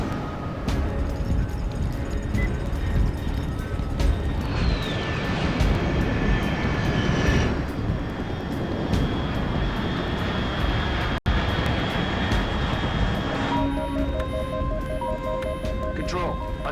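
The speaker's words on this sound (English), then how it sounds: "Unidentified aircraft detected." Aircraft engine droning steadily in the stealth action game Metal Gear Solid Delta: Snake Eater, a continuous loud hum with a brief whine near the middle and layered game music and effects, with a voice speaking over it.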